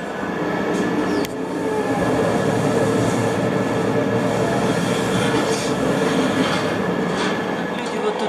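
A train from Denver airport to downtown Denver, Colorado rumbles steadily along the rails, a continuous heavy clatter with a sharp metallic click early on and faint squeals overhead.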